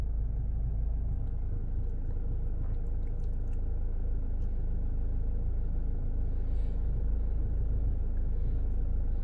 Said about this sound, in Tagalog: Press the button, start the engine.